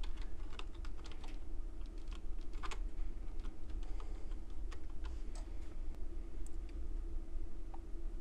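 Quiet keystrokes on a computer keyboard as a search is typed, a steady run of light ticking taps over a low constant hum, no voices.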